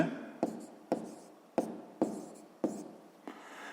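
Pen or chalk strokes set down a sixth-grade math solution, six distinct tapping scratches at a steady rhythm, each a crisp attack fading quickly, close and alone without talk.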